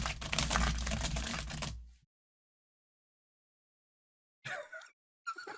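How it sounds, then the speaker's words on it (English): Rapid computer keyboard typing, a dense clatter of keystrokes loud and close for about two seconds before cutting to silence, then two short bursts of voices talking. "He was using his keyboard for sound effect."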